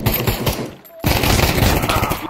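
Fast, loud bursts of automatic gunfire from the virtual-reality shooter Pavlov VR rattle on, break off briefly, then resume in a dense stream.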